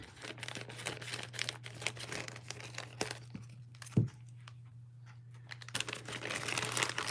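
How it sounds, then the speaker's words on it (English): Scissors snip and tear open plastic bags holding parts for a Tamiya DT-03 Neo Fighter buggy model kit, giving a steady run of close crinkling, tearing and cutting sounds with one sharp snip near the middle, over a low constant hum. "I always need a pair of scissors to open these bags."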